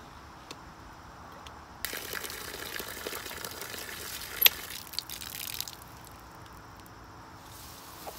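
Water runs from a repaired faucet that no longer leaks, turning on with a sudden hissing gush, splashing and trickling for a few seconds before fading back to a quieter drip-free background.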